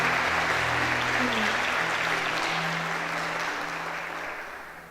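A church congregation at a Portuguese-language sermon breaks into sustained applause over a low background tone, then the clapping gradually thins and fades toward the end.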